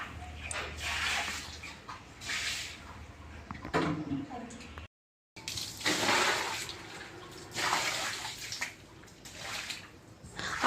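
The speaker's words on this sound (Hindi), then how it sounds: "तो चलिए झाड़ू धो धा लेते हैं।" A broom being washed outdoors with water at dusk, with steady splashing and gushing, swishing bristles and a brief pause, close and fairly loud.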